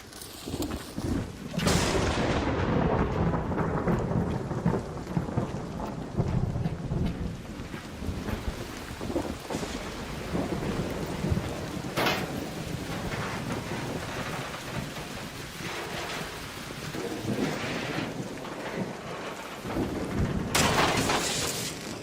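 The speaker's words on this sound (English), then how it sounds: "I haven't been killed by the lightning, but I have been struck by the lightning a couple of times" A thunderstorm in the video game ARC Raiders, with steady heavy rain and several loud cracks and rolling rumbles of thunder close by, no talking.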